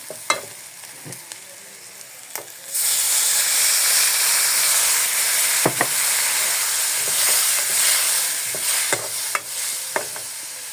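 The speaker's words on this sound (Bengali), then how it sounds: "পেঁয়াজ তো ভাজা শেষ, হালকা একটু পানি দিয়ে দিই" A splash of water hits fried onions in a hot pan and sets off a sudden loud, sustained hissing sizzle that steadies and slowly eases, broken by sharp utensil clicks and scrapes before and during it.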